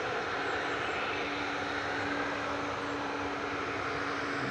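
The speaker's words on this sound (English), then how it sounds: "It's weird, hearing the Ryanair rumble after it's taken off." A Ryanair jet rumbles steadily in the distance after takeoff at Manchester Airport, a broad, even roar with a faint tonal hum running through it and no voices.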